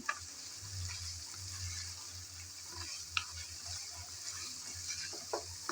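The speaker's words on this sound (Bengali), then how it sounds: "আবারও একটু নেড়েচেড়ে ভালোভাবে মিশিয়ে নিলাম।" Spicy chicken fry being stirred in a pan, giving a soft, steady sizzle under occasional scraping clicks of the spoon, fairly quiet and with no talk.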